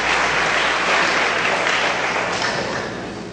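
A seated audience at a school opening ceremony gives sustained applause for a brother asked to stand, steady dense clapping that holds strong and then slowly tapers toward the end.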